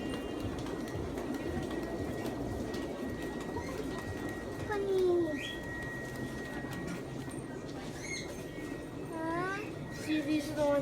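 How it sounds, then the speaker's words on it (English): Bird calls, apparently a pet parrot among others in a shop, give short rising chirps and whistles at intervals over a steady low hum and background noise, with no speech. "Is that the parrot?"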